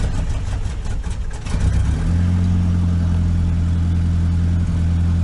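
A Nissan 200SX that has sat unused for a long time, jump-started, catches with a brief stumble at first, then settles into a steady, loud, close idle with a low droning hum.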